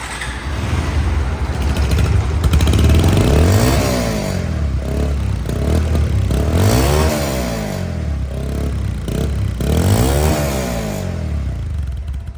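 A secondhand 2021 Bajaj Pulsar motorcycle with disc brakes and ABS idles close by with a steady rumble, revving up several times in rising and falling swells.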